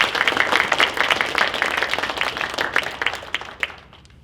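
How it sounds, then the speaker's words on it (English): Applause at a poetry month celebration for a college community, many hands clapping briskly and closely together before thinning out and fading near the end. "give everyone a round of applause for the community and for the work that was done"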